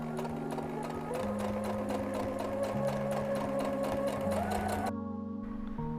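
A sewing machine stitches buttonholes by hand control into a fabric e-reader cover, giving a fast steady mechanical whirring and rattling that runs continuously before stopping near the end, with some background sound beneath.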